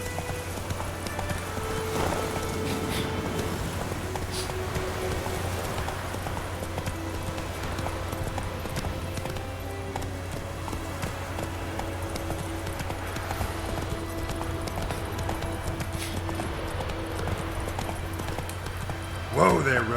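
Geralt's horse Roach gallops in The Witcher 3, with steady rhythmic hoof clip-clops over a low game drone and music for most of the stretch, and a brief sharp sound near the end.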